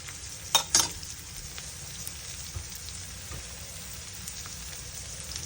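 Two small onions and half a head of garlic fry in a little oil alongside fried prawns, making a soft, even sizzle with a couple of quick utensil clinks near the start.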